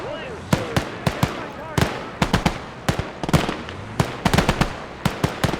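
German machine guns firing in a WWII battle video game, with sharp bursts and rapid scattered cracks of gunfire spread through the scene, loud and close, mixed with other battlefield noise.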